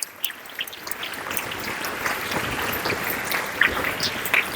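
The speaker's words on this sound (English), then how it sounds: "Give a round of applause for yourself and those speakers" A crowd of students and teachers at a school leadership programme applauds, a soft, rain-like wash of many hands clapping that holds steady at moderate volume, heard from a distance with no talk over it.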